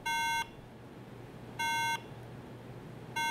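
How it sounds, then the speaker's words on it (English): Three identical electronic startup beeps from a Mac Mini with incorrectly seated DDR3 RAM, each a steady pure tone about half a second long, spaced evenly over a quiet background hum. "If your RAM is not seated correctly, it will beep like this at startup."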